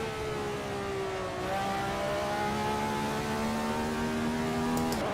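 A 1970s RSS Formula car engine in a racing video game, holding a steady high whine with smooth pitch shifts as it eases off and climbs again, close and continuous, with no voices over it.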